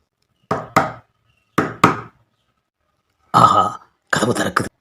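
Knuckles knock on a house door in two quick double raps with silent gaps between, close and crisp, followed by a brief burst of voices.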